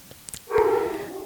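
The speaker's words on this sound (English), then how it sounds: "that's my dogs in the background" Dogs barking in a home in the background, a single broad bark-like burst rising after a quiet start and trailing off, moderately loud with no talk over it.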